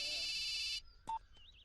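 A telephone rings in a short electronic burst that stops abruptly, followed by a few faint, scattered tones.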